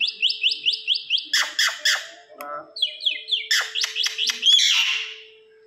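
A pet myna bird chirping loudly and close, repeating rapid series of sharp whistled chirps and squawky calls in rhythmic bursts, alone without talk.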